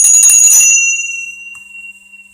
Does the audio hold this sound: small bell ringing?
yes